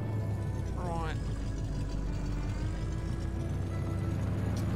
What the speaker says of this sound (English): This truck does sound incredibly nice.